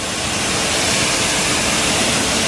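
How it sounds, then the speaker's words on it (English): Deionized water hisses from a sprayer onto a motorcycle coated with protective detailing product, a loud, continuous, close spray with no break and no voices. "And I'm spraying deionized water on it."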